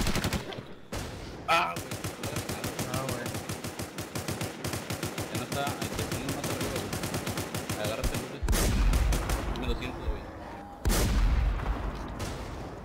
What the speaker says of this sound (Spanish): Están disparando con granadas